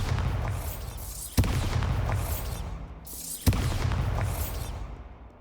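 A Bombarda spell explodes twice in Hogwarts Legacy, each time a sharp booming blast followed by a long rumbling, crackling tail, the two blasts about two seconds apart.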